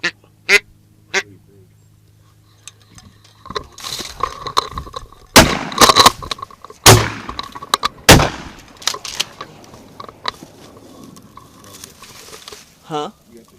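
Ducks quack during a duck hunt, and loud shotgun blasts go off in a quick volley mid-clip, with more scattered quacks before and after and quiet human sounds in between.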